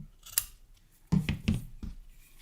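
Big scissors snip through ribbon in several quick, crisp cuts close by, with a single sharp click first and then a cluster of snips.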